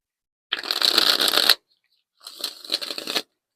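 A tarot or evidence card deck shuffled in two bursts, the first loud riffle lasting about a second, then a softer, choppier second shuffle after a short pause, with no talking.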